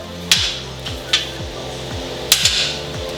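A hammer bounces on the corner of a steel welding fabrication table: a few sharp metallic strikes, each with quick little rebound taps, over a low steady hum, close and loud.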